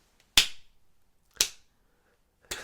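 Three slow, spaced hand claps ring out sharp and distinct against near silence, each with a short decaying tail.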